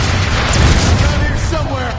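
A grenade blast in a Transformers combat video game: a loud, dense booming burst with heavy low rumble and crackling debris that rolls on and slowly fades over two seconds, with battle noise around it.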